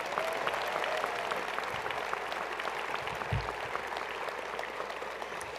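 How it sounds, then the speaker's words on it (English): A large audience applauds doctoral candidates at a winter commencement ceremony in 2025. The clapping is soft and distant, a dense, steady wash that fills the hall evenly throughout. "How about a round of applause for all of them once again?"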